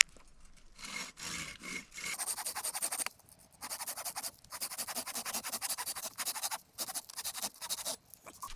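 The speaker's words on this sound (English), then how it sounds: "I'm going to take my saw and I'm just going to make a score down around the base of this" A hand saw scores wood around the base of a fleshing beam, giving a series of close, loud rasping strokes in rhythmic bursts with brief pauses between them.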